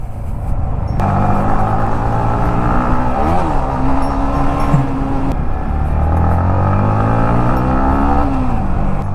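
A nearly new Yamaha MT15 BS6 motorcycle being ridden, its engine droning loudly and close with rising and falling revs through gear changes, under steady wind noise.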